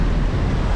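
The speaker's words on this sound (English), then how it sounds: "that is the Atlantic Ocean out there" Waves wash in an Atlantic Ocean inlet at Jekyll Island, Georgia, heard as a loud, brief, continuous roar of surf mixed with buffeting wind.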